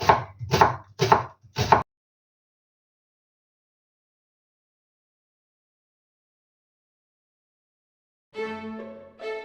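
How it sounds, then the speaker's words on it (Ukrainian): A knife chops an onion into thin half rings on a board, four sharp, close thuds in a quick steady rhythm followed by long silence, and a brief musical sound at the end. "Отже, друзі, ріжемо цибульку."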